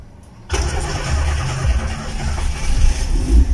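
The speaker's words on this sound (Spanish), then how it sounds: "vamos a darle marcha y vamos a presionar el acelerador hasta fondo para que arranque más rápido" A Sport Van 1.6 engine cranks briefly and then fires up after its throttle body was cleaned, settling into a loud, uneven rumbling idle with surges as the throttle is pressed, close by and with no voices.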